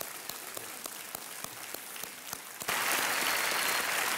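A studio audience on Kaun Banega Crorepati bursts into applause, a loud, dense wash of clapping that starts suddenly after a quieter patch of scattered taps.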